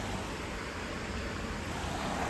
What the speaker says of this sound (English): We have the sound of the water.